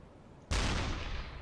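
Deck gun rounds striking a ship around its funnel in the UBOAT submarine game, a single sudden loud impact blast that rumbles and decays over the next second.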